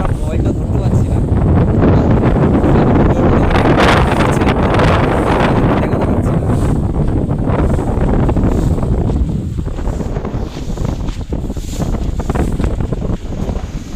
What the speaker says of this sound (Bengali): এত হাওয়া হচ্ছে